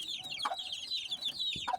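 Chickens at feeding time give soft, rapid clucks and chirps close by, with a couple of brief louder calls over a quiet background.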